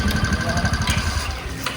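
A motorcycle engine idles close by, giving a steady low rumble with quick, even pulsing throughout the short stretch and no talking.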